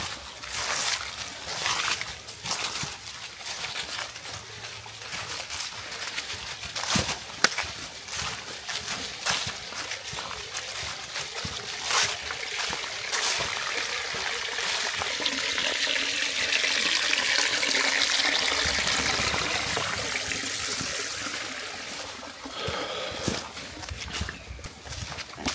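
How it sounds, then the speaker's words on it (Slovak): A small waterfall in the Haluzická tiesňava gorge flows and splashes steadily, a broad rushing wash that swells louder midway, accompanied by scattered footsteps and knocks. "Vodopádik."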